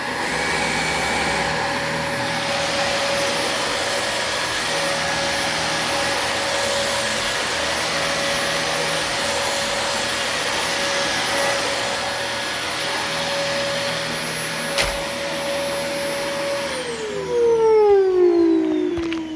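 A loud, steady vacuum cleaner motor drones continuously, then winds down with a falling whine near the end.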